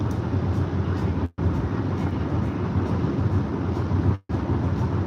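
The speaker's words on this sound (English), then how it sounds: "Oh, I think that's a helicopter." A helicopter passing overhead at night sounds as a steady, broad rumbling drone that holds at a constant level throughout, with two brief sharp dropouts, and nobody talks.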